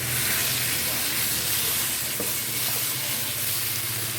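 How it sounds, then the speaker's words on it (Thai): Steady sizzling and crackling of sliced pork belly dry-frying without oil in a hot pan over medium heat, a continuous dense hiss with no voices. "เอาหมูสามชั้นนะครับที่เราหั่นไว้นะครับ ลงไปคั่ว ไม่ต้องใส่น้ำมันนะ"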